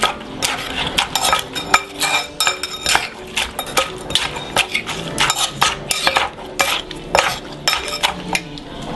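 Utensils tossing crab through an Asian papaya salad, giving a busy run of close clinks, scrapes and clatters against the bowl that continues for the whole stretch with no talking.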